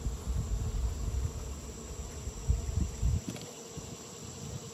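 Honeybees at a hive busy guarding the top against ants make a constant low buzzing hum, close and moderately loud, with a few brief louder swells and no talking.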